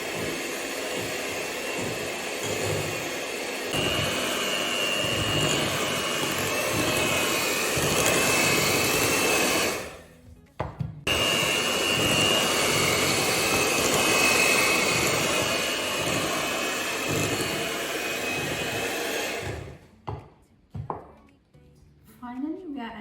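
An electric mixer beats butter cake batter with flour on low speed, giving a continuous broad whirring drone that cuts out briefly near the middle and stops toward the end, close and fairly loud.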